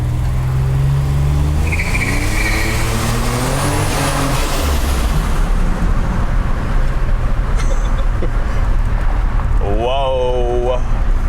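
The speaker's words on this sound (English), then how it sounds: "I can build up the boost a little bit under this tunnel so you can hear it" A 1987 Buick T-Type turbo engine building boost inside a tunnel, its loud roar rising and echoing, then easing off before a rising turbo whistle and revving return near the end.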